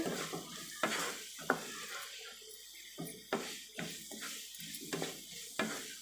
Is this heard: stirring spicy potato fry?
yes